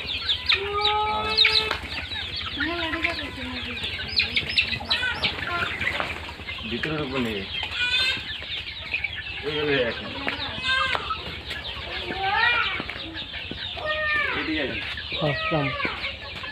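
Local chickens on a poultry farm in Barpeta, Assam cluck and call busily, with repeated overlapping hen vocalizations, an occasional rooster crow and wing flapping over steady farm background noise.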